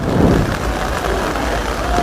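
Steady heavy rain pours over the riverside ghats at Haridwar, a dense continuous hiss with low rumble throughout, with no voices standing out.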